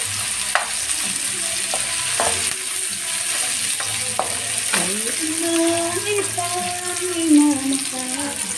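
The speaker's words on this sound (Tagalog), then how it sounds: "Igigisa natin, guys, para masarap." Aromatics sautéing in a pan for sinigang na bangus, a steady sizzle and hiss with occasional stirring clinks, while a voice talks and a faint melodic tone drifts through the middle.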